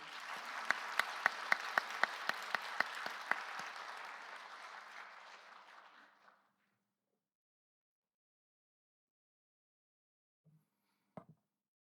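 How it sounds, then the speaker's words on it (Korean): Church congregation at a Sunday service clapping in welcome, a dense round of applause with a few sharp claps standing out, fading out after about six seconds into near silence broken by a couple of small knocks. "우리 박수로 한번 환영해 주십시오"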